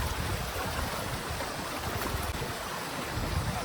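Water of a hot spring stream flows continuously and loudly nearby, a dense broadband rush with no break and no voices over it.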